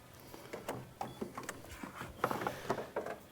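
A series of plastic knocks, rattles and clunks as the water tank is slid back into a Gaggia Velasca Prestige espresso machine, irregular and close, with no one talking.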